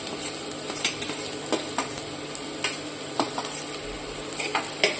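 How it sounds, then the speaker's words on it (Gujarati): Onion and green onion whites sauté in a pan for a corn soup, giving a steady close sizzle broken by repeated scrapes and light clinks of a spoon stirring against the pan. "બંને થોડીક વાર સાંતળી લઈશું આપણે ડુંગળીને"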